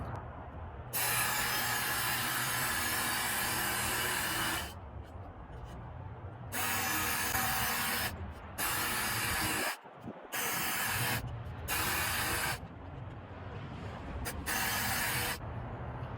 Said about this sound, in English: So I'm going to start sharpening the knife.